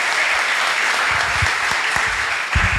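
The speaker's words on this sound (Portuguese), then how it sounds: "aplauda Ele bem forte" A church congregation claps loudly and continuously in worship, a thick wash of many hands with some sharper individual claps standing out near the end.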